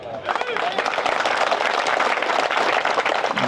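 Sustained, dense clapping from a large crowd, loud and continuous throughout with no pauses.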